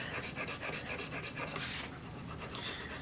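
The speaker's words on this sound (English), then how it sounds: "actually kind of polish up the fretboard with the erasers at the same time while I'm doing the frets" Abrasive erasers rubbing back and forth over guitar frets and the fretboard, a quiet, close rhythmic scrubbing with quick repeated strokes that fade into a softer continuous rasp.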